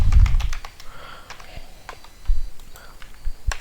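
Quick bursts of computer keyboard typing, crisp clicking keystrokes in irregular clusters with short pauses, close and fairly loud, with no voice over them.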